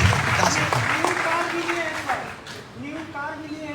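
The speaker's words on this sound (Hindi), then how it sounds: "जोरदार तालियां। Thank you" Audience applause at a training seminar in Bhanja Bhawan, Orissa, a brief burst of clapping under someone speaking loudly into a microphone.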